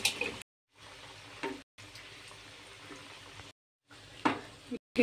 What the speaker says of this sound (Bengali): তেল গরম হয়েছে, এখন আমি পিঠেগুলো সেরে ভেজে নেব।